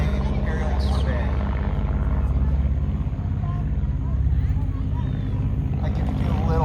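A Stinson L-5 Sentinel light aircraft flies a demonstration pass, its engine and propeller giving a steady, loud drone that holds throughout with slight swells, while a voice talks over it.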